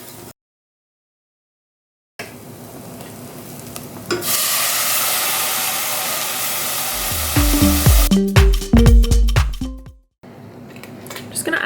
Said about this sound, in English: I'll give that a really quick stir.